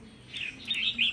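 A red-whiskered bulbul songbird gives a short burst of bright, close chirps, rising and repeating in quick succession over a quiet background.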